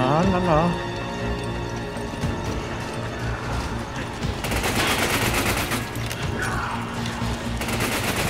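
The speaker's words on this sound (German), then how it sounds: "Maschinengewehr ist nicht schlecht und das sind 80 Schuss." Machine gun fire in the video game Resident Evil 5, with rapid rattling bursts dominating the second half over mechanical game clatter, and a voice talking at times.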